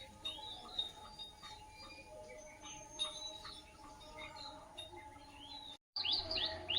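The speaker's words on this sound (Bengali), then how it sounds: "কলসির ভিতর থেকে পাখিগুলো বেরোচ্ছে, ওখানে বাসা করেছে মনে হয়" Small birds chirping from a nest inside a clay pot outdoors, faint high tweets and quick calls scattered across a quiet background, with a brief dropout before a last flurry of chirps.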